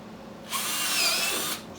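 A power drill runs in one steady, loud burst of about a second, whining high and even, with quiet before and after in a small home workshop.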